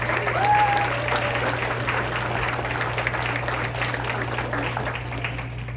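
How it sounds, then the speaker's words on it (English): An audience in a junior high school assembly gives sustained, dense applause for the head of junior high, steady and fairly loud throughout, with a faint hum underneath. "Let's give her a big round of applause."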